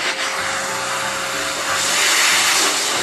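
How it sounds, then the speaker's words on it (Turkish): An Arçelik 4540 bagged electric vacuum cleaner runs close by with a steady, loud whirring roar and broad hiss that swells slightly partway through, with no talking. "Tamam şimdi süpürgeyi çalıştır."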